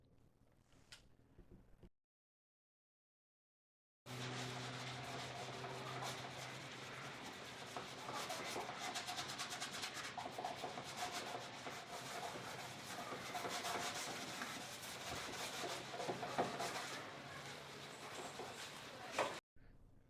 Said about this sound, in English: There was still a thin residue left under the molding that I sanded off with sandpaper.